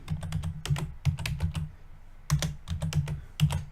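Quick bursts of typing on a computer keyboard, clustered keystrokes separated by a short pause, close and fairly quiet.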